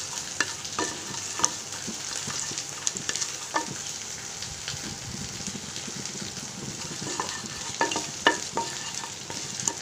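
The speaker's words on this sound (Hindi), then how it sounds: "और जब हमारा ऑयल गर्म हो जाएगा तब मैं इसमें 1/2 टीस्पून 5 फूरन डाल दूँगी।" Panch phoron spices sizzle and crackle in hot oil, a continuous bright frying hiss dotted with frequent small pops and occasional stirring scrapes, close and moderately loud with no speech.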